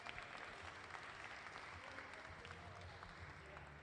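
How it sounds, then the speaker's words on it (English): An audience at a glassblowing demonstration in a museum of glass applauds the glassblowers, a dense, steady clapping from a crowd heard at a moderate distance, continuing evenly for several seconds. "Let's give them a round of applause for all their hard work getting that move done."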